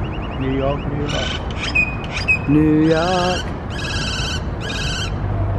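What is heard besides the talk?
bird singing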